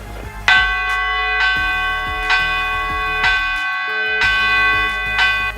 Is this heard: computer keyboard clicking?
no